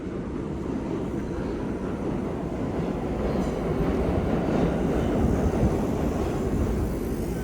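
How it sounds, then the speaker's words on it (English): A New York City subway train rumbles past near Wall Street in a loud, continuous roar that swells slightly and holds steady, with no talking. "Guys, do you hear the trains?"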